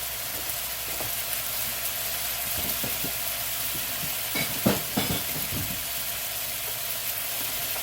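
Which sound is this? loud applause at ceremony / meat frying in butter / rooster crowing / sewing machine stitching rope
meat frying in butter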